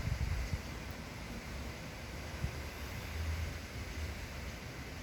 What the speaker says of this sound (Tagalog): Ang daming tinatangay ng hangin.